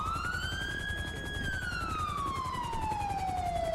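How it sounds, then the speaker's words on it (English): A police car siren in a video game wails alone and steady, rising and then falling in one long sweep over low engine rumble. "Siren check."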